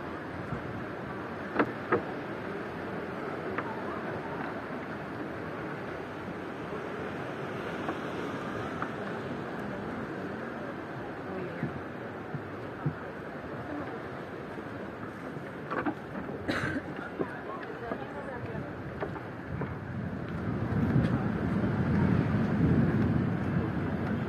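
Waves washing onto Playa de San Telmo beach in Puerto de la Cruz, Tenerife, a steady broadband surf roar with wind, building slightly louder toward the end, with no voices.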